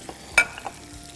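Mash dal in a pan gives a faint sizzle, broken by a couple of brief scraping clinks of stirring, quiet and close.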